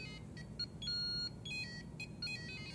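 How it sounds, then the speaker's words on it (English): A homemade digital clock music player's buzzer plays short electronic tones set by voltage readings, a quick irregular run of faint beeps at shifting pitches over low background hum. "we set intervals for the voltage reading and transmitted those into frequencies that would play on the buzzer"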